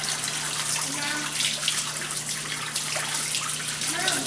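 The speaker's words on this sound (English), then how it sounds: "And the water pressure here is fantastic." Tap water gushing at strong pressure, a loud continuous close-up hiss and splash that stays steady throughout, with a low electrical hum underneath.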